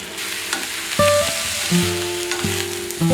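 Mushrooms sautéing in a little oil in a pan, a loud continuous sizzle with occasional clicks of stirring, heard close up with no speech.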